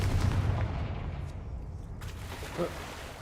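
The Confringo blast curse is cast in a Harry Potter video game, producing a muffled explosive burst about two seconds in over a low rumbling game soundscape.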